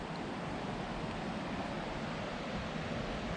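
A waterfall above a swimming hole pours with a steady, full rushing roar, close and constant, with no voices.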